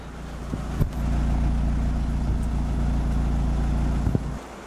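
Mitsubishi Lancer Evolution engine idling with no exhaust fitted, a low, steady hum close by that holds evenly, with a couple of brief clicks.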